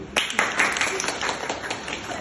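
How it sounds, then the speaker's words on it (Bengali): A group clapping together at an iftar gathering during Ramadan, a burst of scattered applause from several people that starts quickly and tapers off, with some voices mixed in. "তো আপনারা সবাই একটু হাততালি দিই।"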